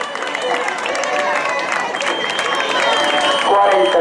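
A crowd at a popular running race in Meaño claps and cheers as the last runners come in, with steady applause building slightly toward the end under some voices.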